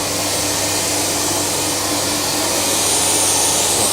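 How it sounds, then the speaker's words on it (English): A vacuum pump runs on a Recontech 1312 CNC milling machine, a steady loud broadband whir that holds constant throughout, with no talking. "and hit the vacuum pump button."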